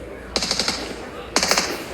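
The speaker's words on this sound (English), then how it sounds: "There's been bullets whizzing through the windows for a while." Two bursts of rapid automatic gunfire in the mobile battle-royale game PUBG Mobile, during a pro esports match, each a quick string of sharp cracks about a second apart, fairly close, with bullets whizzing past building windows.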